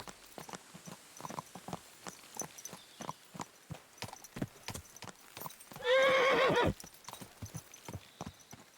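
Horse hooves clip-clop steadily in Kingdom Come Deliverance 2, and near the end a loud, clear neigh rings out over the galloping rhythm.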